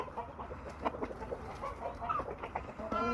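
Chickens and roosters on a poultry farm keeping about 60 to 65 hens and 12 roosters, with scattered clucks and calls at moderate distance over a constant farmyard background.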